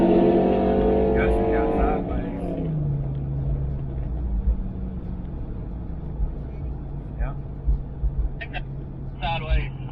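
Boosted Dodge Charger Scat Pack launching in a drag race against a Nissan GT-R R35, with a loud engine roar that climbs in pitch and then settles into a lower rumble as voices talk over it.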